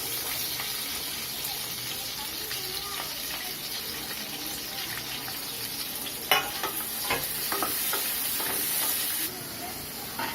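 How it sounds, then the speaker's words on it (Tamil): Four large onions sizzle in a hot pan while frying for mutton biryani, a steady hiss with occasional stirring scrapes and a clatter partway through. "கூடயே வெங்காயம் வந்து சேர்த்துக்கலாம்."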